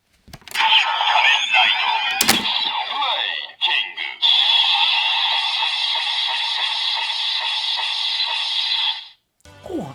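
Electronic transformation sound effects from a Kamen Rider Decade CSM K-Touch toy for King Form: a sharp metallic clash, then a bright sustained synthesized tone that swells and holds for several seconds before cutting off, loud and alone.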